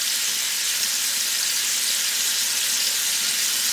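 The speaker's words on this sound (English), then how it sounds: "you probably are going to have to press them down into the pan." Pork chops with a good layer of fat sizzle steadily in a frying pan, a loud, constant crackling hiss with no break and no talking.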